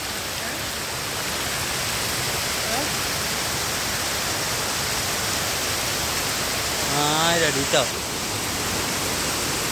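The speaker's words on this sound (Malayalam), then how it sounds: "ഗംഭീര വെള്ളച്ചാട്ടം കുത്തൊഴുക്കാണ്" A rushing waterfall in the Mangalam Dam forest pours as a constant, full hiss of falling water, with someone speaking briefly over the roar near the end.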